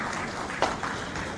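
Applause for President Samia Suluhu Hassan at a hotel launch ceremony in Tanzania: a steady, dense wash of clapping from a crowd, even in level throughout with one sharper accent midway.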